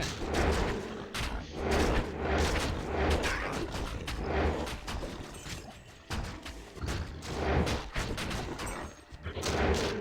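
Repeated explosive booms and crashes from elemental catapult fire in the PC game Diablo II, a dense, loud barrage of overlapping impacts with brief lulls.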